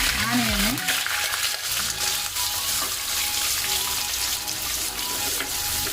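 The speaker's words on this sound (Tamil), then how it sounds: "கருவேப்பிலை நல்லா பொரிஞ்சோடனே" Curry leaves fry and splutter in hot oil with a bright, crackling sizzle that carries on steadily, opening with a brief clatter of stirring.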